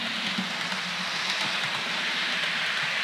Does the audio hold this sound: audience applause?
no